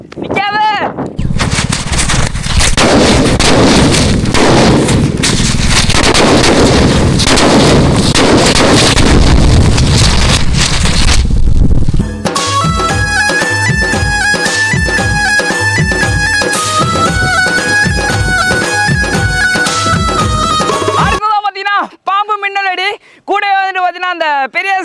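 Naattu vedi country firecrackers go off in a loud, dense string of sharp blasts for about twelve seconds. Music then follows.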